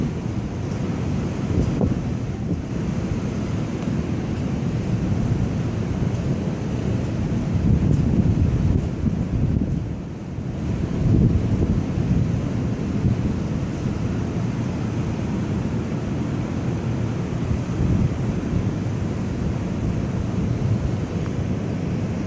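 Strong wind buffets the microphone during a severe thunderstorm in Dubuque, Iowa, a continuous loud rushing roar that swells and eases slightly without any break.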